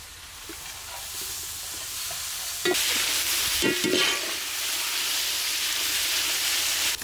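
Onion and tomato fry in oil for a Tamil-style egg masala gravy, a steady close sizzle broken by a few scraping, clattering stirs of a spoon in the pan.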